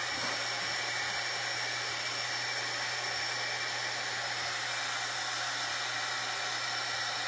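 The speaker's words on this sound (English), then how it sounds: "I'm going to bust out my heat tool" A handheld heat tool blows hot air over wet acrylic paint splatters. It gives a loud, constant whirring roar with a steady hum underneath that does not change from start to finish, and no voices are heard.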